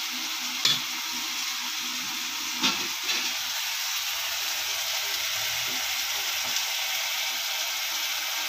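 Ingredients sauté in a pan, a steady hissing sizzle at moderate level with a few scattered clinks and stirring knocks throughout, no talking.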